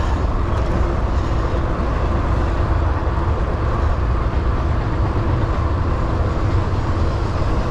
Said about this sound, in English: Now we got a train over here.